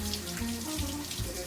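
A kitchen tap runs steadily while hands are washed under it, a close, continuous splash with small shifts as the hands move through the stream.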